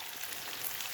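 Chilies, curry leaves, onions and spices frying in butter for a Karnataka pork curry, a continuous soft sizzle and crackle with no talking.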